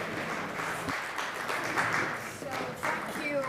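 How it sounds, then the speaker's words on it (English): Conference attendees clap for a woman at a closing session, a moderate, somewhat distant round of applause mixed with a voice talking over it. "A strong round of applause to her."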